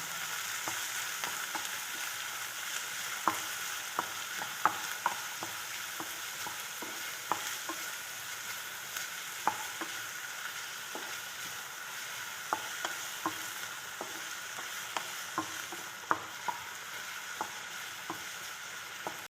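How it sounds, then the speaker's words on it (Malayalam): Sliced onions frying in a pan for Indian-style macaroni pasta, with a steady soft sizzle and frequent light scraping clicks from stirring, alone and close. "ഇതിലേക്ക് ഉള്ളി ഇട്ട് കൊടുക്കാം. ഇനി ഇളക്കണം."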